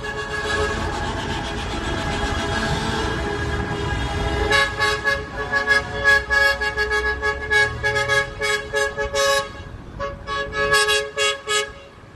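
Around 200 cargo and dump trucks at a transport workers' protest in Veracruz blast loud, sustained air horns in overlapping tones, breaking into choppy repeated honks toward the end.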